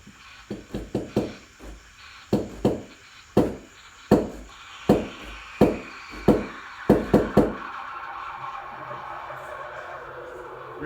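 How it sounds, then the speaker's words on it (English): A spent espresso puck knocked out of the portafilter of a Breville Barista Touch BES880BST into a knockbox, heard as a series of sharp, close knocks in uneven rhythm, about a dozen strikes, then fading into a steady low hum. "take out the water filter, knock it into a knockbox."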